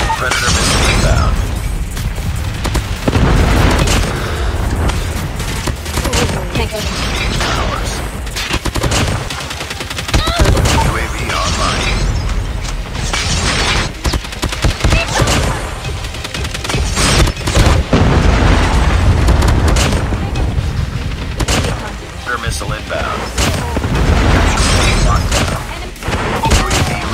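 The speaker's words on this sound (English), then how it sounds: "Predator missile inbound." Rapid gunfire and heavy booms of predator missile explosions in the mobile shooter COD Mobile, loud and dense across the whole stretch, with bursts of automatic fire layered over repeated blasts and game voice callouts.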